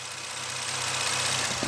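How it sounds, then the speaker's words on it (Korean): A Ford Mustang coupe's 4.0-liter V6 engine idles steadily up close with a broad, even rumble and faint knocking texture, swelling slightly near the end. "정말 무시무시한 녀석인데 바로 엔진 소리 한번 들려드릴게요."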